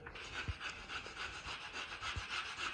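A scraper rubs loose paint off a boat's hull in a steady back-and-forth rhythm, faint and somewhat distant with no talk.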